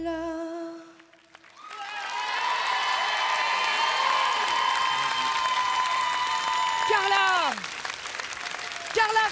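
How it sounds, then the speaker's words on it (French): A TV studio audience on the children's talent show L'École des Fans breaks into sustained applause and cheering that swells and holds for several seconds, with bright musical tones ringing over the crowd. "Carla, sous vos applaudissements"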